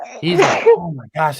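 A single sharp sneeze bursts out mid-sentence, loud and close, between stretches of someone talking.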